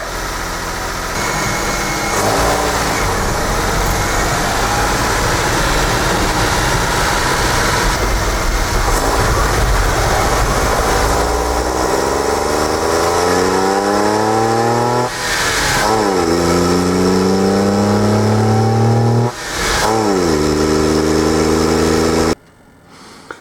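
A Suzuki minitruck engine drives around the block, idling and then revving through several rising pulls as it shifts gears, loud and close throughout, before cutting off abruptly at the end.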